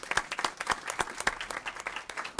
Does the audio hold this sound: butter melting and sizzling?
no